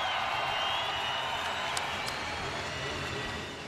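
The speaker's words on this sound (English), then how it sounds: "One more round of applause, you guys" An audience at a Harley-Davidson Flat Out Friday event claps and cheers, a moderate, diffuse wash of applause that slowly fades toward the end, with a couple of brief sharp claps standing out.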